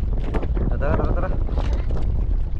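Strong sea wind buffets the microphone on a boat offshore, a steady loud roar of low rumble and gusts running throughout, with voices talking over it.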